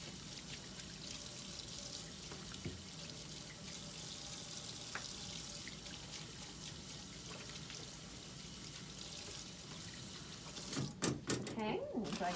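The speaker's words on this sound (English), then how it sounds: "Do our antiseptic hand wash." Hands washed with antiseptic hand wash under a running tap at a sink: faint steady running water, with louder splashing and rattling near the end and a person talking over it.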